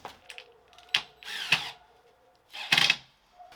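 A cordless drill drives screws into sturdy plywood in short bursts, several brief whirring spurts separated by pauses, close and fairly quiet.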